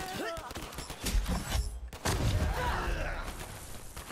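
Rapid gunfire from a weapon in Borderlands 3, bursts of shots and thuds punctuated by a brief pause, with someone talking over the loud, dense action.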